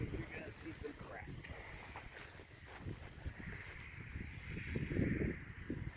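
Wind buffets the camera microphone outdoors during a Stansport Scout two-person backpacking tent setup, a faint gusty low rumble that runs under a person talking.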